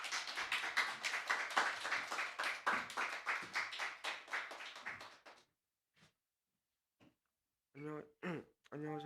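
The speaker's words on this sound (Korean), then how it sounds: "나올 때 큰 박수로 환영을 해주시기 바랍니다" A church congregation at a Sunday combined service claps to welcome a youth speaker, giving about five seconds of dense, lively applause that fades to near silence before a voice begins.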